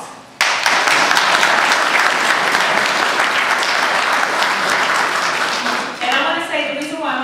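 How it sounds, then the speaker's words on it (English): A crowd bursts into loud, sustained applause that continues steadily, then a voice starts speaking over the last of the clapping. "Give those people a round of applause."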